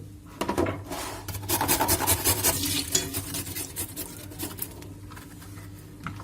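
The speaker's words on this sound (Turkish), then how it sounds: "Evet havuçlarımızı bu şekilde rendeledik arkadaşlar." Carrots rubbed against a grater, making rapid close rasping strokes that build into a dense scratchy run and then taper off over a low steady hum.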